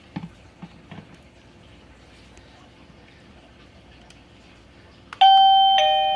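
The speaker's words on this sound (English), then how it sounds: "Let's see what different chimes it has." A Liztek portable wireless doorbell receiver plugged in indoors rings out a loud, bright electronic chime that starts suddenly after a few quiet seconds of faint handling taps, sounding twice in quick succession and ringing on as it decays.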